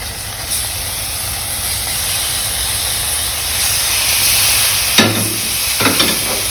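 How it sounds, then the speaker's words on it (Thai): Fish pieces stir-frying with curry paste in a hot pan give a steady, loud sizzle and hiss throughout, with a couple of sharp stirring scrapes near the end. "จากนั้นเราก็ใส่เนื้อปลาลงไป"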